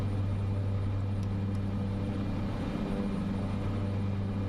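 A Cessna's propeller engine drones steadily through a climb in Flight Simulator 2024, a low, even hum with no breaks from start to end and no talking.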